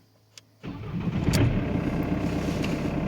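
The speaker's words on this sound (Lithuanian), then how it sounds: "Taigi užsivedam automobilį" A car's engine cranks and catches before a battery and alternator check, then settles into a steady, close idle that stays even after the start.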